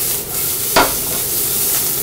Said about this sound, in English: Now we're cooking the vegetable on medium heat.